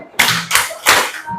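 Classroom group doing a rhythmic "tepuk lope" love clap for student groups, three loud bursts of many hands clapping together in quick succession, close and crisp.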